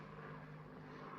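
A steady, low droning hum of an aeroplane overhead, faint and distant, continuous with no voices.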